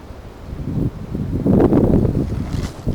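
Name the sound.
wind blowing through the trees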